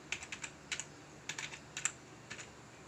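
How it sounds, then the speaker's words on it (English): Someone types into the Chrome Web Store search box on a computer keyboard, with light, quick keystroke clicks in small irregular clusters. The typing is close and quiet, with no voice over it. "All you have to do is type in here, search the store"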